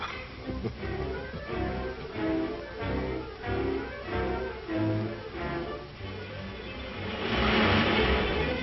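A car travels along the road toward the listener, its engine a muffled drone that swells louder in the last seconds as it draws near, with a tonal background running underneath.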